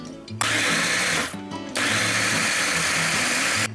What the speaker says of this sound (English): So I'm just gonna use this little mini food chopper.